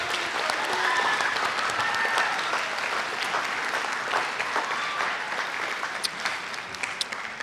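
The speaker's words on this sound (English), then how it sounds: "let's give all of these students a big round of applause for that" A junior high audience at a school spring band concert claps steadily in dense, sustained applause that slowly thins toward the end, with some crowd noise mixed in.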